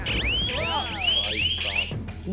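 A camping safety alarm emits a loud, piercing electronic siren with rapid rising sweeps repeating about three times, close and continuous, with a faint low background hum.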